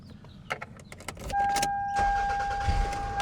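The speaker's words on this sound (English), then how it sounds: "Let's take it outside and see if it actually will start the car." A Toyota Camry engine cranks and catches after its battery has been recharged with a NOCO Genius 5, then settles into a steady idle with a whine, following a few short clicks and knocks.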